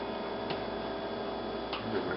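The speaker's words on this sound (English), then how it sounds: "There's a clock there." A kitchen clock ticks softly and regularly, its faint clicks sitting over a low steady room hum, with no one speaking.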